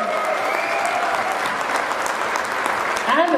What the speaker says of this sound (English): round of applause for that ladies and gentlemen